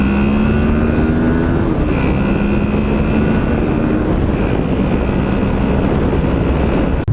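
A 2015 Honda VFR800X Crossrunner motorcycle engine revs and accelerates, a loud, steady drone whose pitch climbs, dips with a gear change and climbs again, heavy with road and wind rumble throughout.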